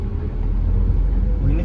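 Car engine accelerating during a driving lesson, a steady low rumble heard from inside the cabin with a slight rise in pitch, with some voice beneath.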